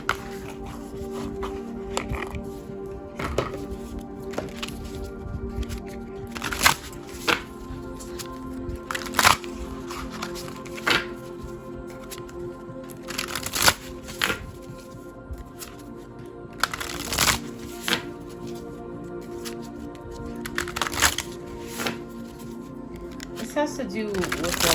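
Shaman's Oracle cards are shuffled steadily throughout, a papery riffling with frequent crisp slaps and taps, close and fairly quiet under a constant backdrop.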